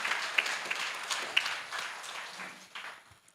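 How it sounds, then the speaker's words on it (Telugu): An audience at an event claps for the organisers, a loose, moderately loud round of applause with a few sharp individual claps that gradually fades. "మరి ఆ మాస్టర్స్ అందరికీ ఒకసారి గట్టిగా క్లాప్ చేద్దాం"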